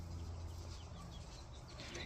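Pet chickens, including young birds and a future rooster, cluck softly and steadily at close range, a low continuous murmur of fowl sounds with no talking.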